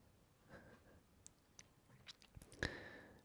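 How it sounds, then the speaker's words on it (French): A cat crunches dry kibble nearby, giving faint, scattered crisp bites and small clicks against a very quiet background, with one sharper crunch toward the end. "Elle mange ses croquettes là."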